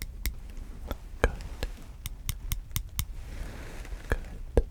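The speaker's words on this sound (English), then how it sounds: "Please tell me which ear you are hearing the clicking sounds." Sharp, crisp clicks in an ASMR doctor role-play, spaced irregularly and heard near and distinct against a quiet background, with no speech.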